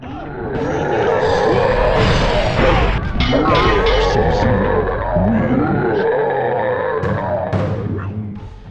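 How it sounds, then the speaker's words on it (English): Eerie Living Forest stage ambience from Mortal Kombat 4, with crashing impacts, low grunts and roaring growls, swelling and fading over a dense, busy background. "the Living Forest stage in MK4 sounds like this"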